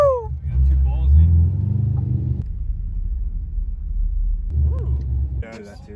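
A drift truck's engine roars and rumbles up close, building through the gears and dropping off abruptly partway through, with excited shouting and talk over the top.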